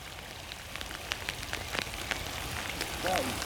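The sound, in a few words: heavy rain falling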